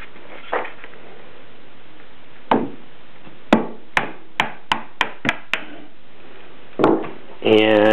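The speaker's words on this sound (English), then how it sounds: "I'll get a hammer here." A hammer knocks out a wooden wedge on a Japanese tool box in a quick run of sharp knocks, some isolated blows before and after, with brief speech in between.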